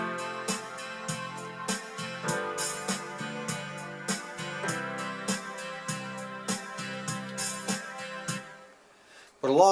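A Casio WK-7600 keyboard plays its rhythm accompaniment over a held chord, with steady drum hits and sustained harmony in an even, looping groove. It runs alone, without speech, and a brief louder sound comes at the very end.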